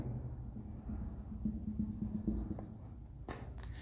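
Chalk or marker writing on a board during a physics lesson on capacitors, a steady scratchy scraping in short strokes, fairly close, with a brief sharper tap near the end.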